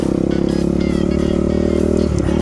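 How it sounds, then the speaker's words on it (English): A Husqvarna dirt bike engine revs high and steady, a loud close continuous drone with a brief dip near the end, no talking over it. "this engine's designed to over rev a lot more"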